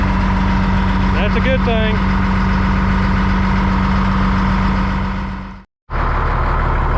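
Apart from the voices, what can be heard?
Caterpillar D6H bulldozer engine idling after start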